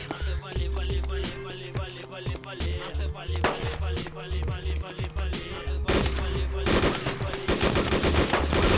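Repeated gunfire in DayZ, a dense run of sharp shots and rapid bursts, some close and loud, others trailing off, turning into a sustained heavy volley near the end.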